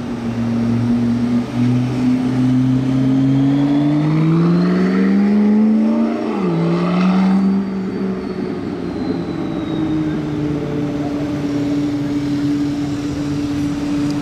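A McLaren P1 supercar drives past loudly with a steady, deep engine drone, its pitch rising and then dipping sharply as it passes close by before settling into a sustained note as it moves away.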